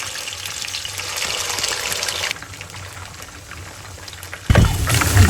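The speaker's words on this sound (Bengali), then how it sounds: "কড়াইয়ে তেল দিয়ে চিকেনগুলো ভেজে নিব।" Chicken drumsticks fry in oil in a wok with a steady crackling sizzle that softens midway, then swells loudly again near the end, with no voices.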